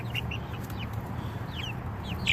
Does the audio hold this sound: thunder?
no